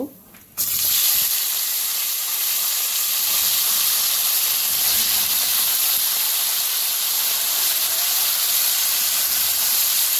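Vegetables hit a hot pan after fish frying and cumin for a village-style fish curry, bursting into loud, steady broadband sizzling that starts abruptly after a brief quiet moment and holds strong throughout.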